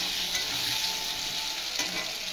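Potatoes fry in a pan, making a steady, dense sizzle close by with faint stirring ticks. No one speaks.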